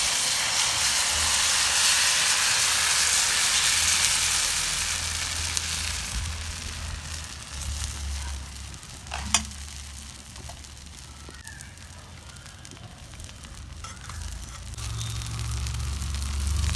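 Dosa batter mixed with drumstick leaf and onion podi hisses and sizzles steadily on an oiled pan, a constant broad frying hiss with a brief clink partway through.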